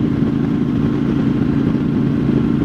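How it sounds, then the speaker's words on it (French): A CFMoto 450MT motorcycle engine pulls in sixth gear at moderate road speed, a close, steady, rumbling drone with an even throttle and no speech. "Le moteur est vraiment sympa, il accélère, il est vif, il accélère bien."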